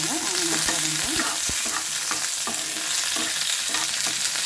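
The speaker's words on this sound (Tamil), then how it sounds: "அதனால் நாம் அரிஞ்சு வச்சுருக்கிற வெங்காயம், பச்சை மிளகாய், கருவேப்பிலை போட்டுக்கலாங்க." Onion, green chilli and curry leaves sauté in hot oil in a pan, a steady close sizzle broken by repeated spatula scrapes and stirring knocks at an uneven rhythm.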